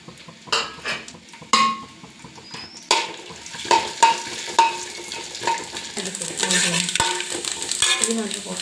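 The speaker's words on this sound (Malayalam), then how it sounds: "ഇതൊന്നും നമുക്ക് വറുത്ത് കോരിയെടുക്കാം." Small coconut pieces fry in ghee in a pot, with repeated sharp spoon taps and scrapes against the metal, and a sizzle that grows stronger toward the end.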